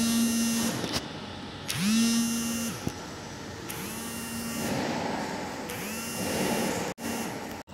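A servo filling machine runs with a steady electric whine and motor hum, broken by repeated rising and falling tonal sweeps as the drives start and stop in cycles, with a few sharp clicks. No one speaks.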